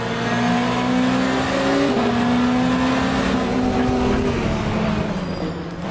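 Aston Martin race car engine in Le Mans Ultimate, a loud steady high-revving drone with a gear change midway and pitch settling lower near the end, close and continuous with no voices.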